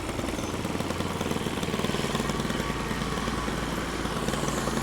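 Petrol lawn mower cutting a residential lawn, a steady close engine drone running continuously at even loudness with no pauses, no talk over it.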